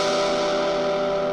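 Glarry Stratocaster-style electric guitar with overdrive, pickup selector in position 4, a sustained chord ringing steadily with thick, gritty harmonics and some effects coloring, loud and alone.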